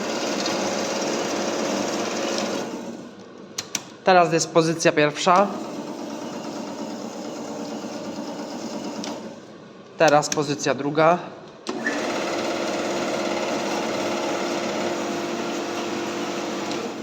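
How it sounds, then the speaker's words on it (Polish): A Metcor BS260G metal-cutting band saw's steady broadband whir runs close by, stopping briefly twice while someone speaks in the gaps, then starting up again. "I teraz jak wciskam, piła chodzi właśnie."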